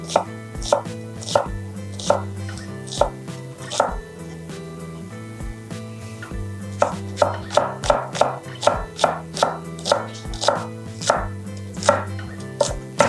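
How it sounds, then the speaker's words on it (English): A big knife finely minces shallots on a cutting board, producing a steady run of quick, crisp chopping taps with a close, rhythmic cadence and brief pauses between bursts. "And then I'll use my bigger knife to cut down the sides so I can get a really fine mince on this."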